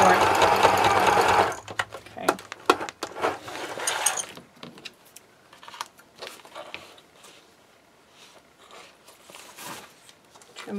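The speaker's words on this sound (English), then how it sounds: "I'm going to overlap the stitching a little bit" A sewing machine stitches a tote bag, overlapping and backstitching: a loud steady whirr for about a second and a half, then short start-stop bursts, with a voice talking quietly between them.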